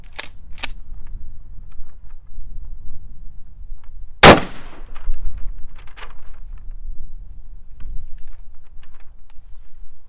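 A Mossberg Shockwave shotgun fires a single sharp, loud bang partway through. Softer clicks and handling sounds come before and after it, in a quiet outdoor setting.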